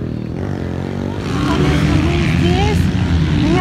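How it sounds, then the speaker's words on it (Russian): Motorcycles roar at a motocross race, a loud continuous engine drone that swells after the first second with rising revving whines, under talk close by. "Звуки мотоциклов везде, запах горючего."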